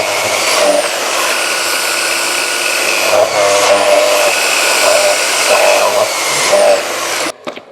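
A power saw cuts tannalised 2x4 framing timber while a vacuum runs alongside, a loud sustained whining roar with a few rising swells as the blade bites, ending in abrupt clatter and silence.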